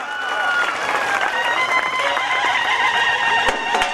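Crowd applauding wrestler Shubham's win at a village wrestling bout in Sangli: dense, steady clapping from a large crowd that carries on without a break, loud and close, with scattered cheering voices mixed in.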